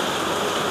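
Steady rain falling outside a crowded food stall, a dense continuous hiss of even loudness with no distinct drops or voices.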